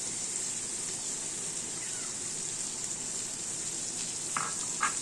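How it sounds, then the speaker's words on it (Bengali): Grated coconut and tomato frying with potatoes in a pan, a steady close sizzle throughout with a couple of brief scraping stirs near the end and no talking. "আলুর সাথে ভালো করে একটু কষে নিই নারকেলটা"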